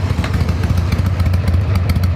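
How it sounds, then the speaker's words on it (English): A Harley-Davidson motorcycle engine starting up and running, giving a loud, close, steady low rumble with a rapid uneven throbbing pulse throughout, with no voices. "Nothing sounds like a Harley."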